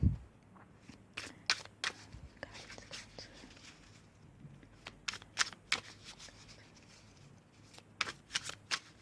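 Tarot cards shuffled and drawn by hand, with repeated crisp riffles and snapping flicks in irregular bursts, close and moderately quiet, with faint whispered speech in places.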